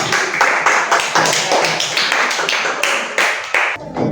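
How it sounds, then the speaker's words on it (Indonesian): A small group of students claps for a class presentation group during a teaching practice lesson, the claps dense and close, running steadily and then stopping abruptly near the end. "Beri tepuk tangan untuk semua"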